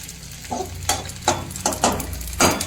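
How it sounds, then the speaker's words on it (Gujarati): Edible gum (gond) fries in hot oil in a pan for katlu paak while being stirred, giving about five rhythmic scraping, sizzling stroke bursts over a steady low hiss, close and fairly loud. "ગુંદર તળે ને ત્યારે એને આપણે હલાવવો જ પડે, નહીંતર છે ને બધો ભેગો મિક્સ ચોંટી જાય"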